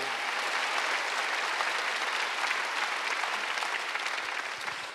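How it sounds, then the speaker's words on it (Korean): A church congregation applauds during a Sunday worship service, a dense, sustained wash of clapping from many hands that holds steady for several seconds before easing slightly at the end. "왜 박수 안 쳐요?"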